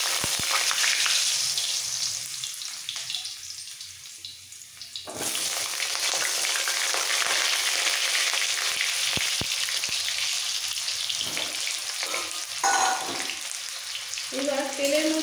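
Washed, cut potatoes go into hot mustard oil and fry, a loud hissing sizzle that surges after a quieter start, with occasional stirring clatter.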